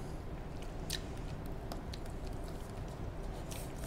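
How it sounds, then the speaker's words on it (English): A young child chews a large piece of food during a baby-led weaning meal of broccoli cheese bites, with soft, close biting and mashing sounds over steady kitchen background noise. "You chewing on it?"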